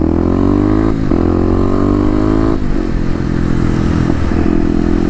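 A 2018 Kawasaki KLX250 dirt bike fitted with Stage 1 modifications, loud and close while riding, its engine holding a steady droning tone with brief dips as the throttle shifts and rattly mechanical clatter underneath.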